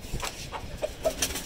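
A few short clucks from a rooster, close by, over faint background noise.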